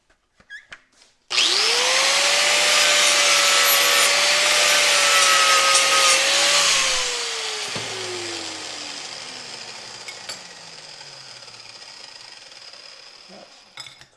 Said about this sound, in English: So I just got to come over to this side of the vise and clamp it in there and grind that last little bits off.